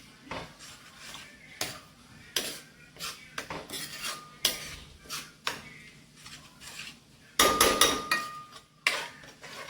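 A spoon stirs chole, a chickpea curry with garam masala, in a cooking pot, making irregular metallic clinks and scrapes against the pot, some sharp and loud, separated by quiet gaps.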